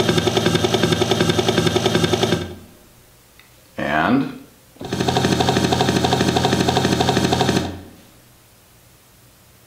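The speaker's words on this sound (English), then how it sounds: "That was a helicopter sound effect" Helicopter sound effect with fast rotor chopping, loud and close, cutting off abruptly, then returning after a brief spoken word and stopping again.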